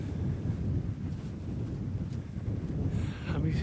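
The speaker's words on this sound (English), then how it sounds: "that wind's picked up a bit now" Strong gusting wind buffeting the microphone on open Dartmoor moorland near Cuckoo Rock and Down Tor stone row, a continuous loud low roar with fluctuating gusts.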